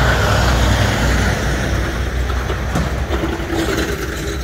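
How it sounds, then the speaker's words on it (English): A heavy truck rumbles past close by, loud broadband road roar and engine drone swelling at first then slowly easing away, with no talking. "let's wait for this truck to pass by"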